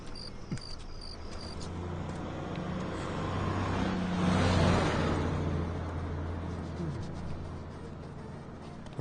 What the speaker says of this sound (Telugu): బస్ వెళ్ళిపోయింది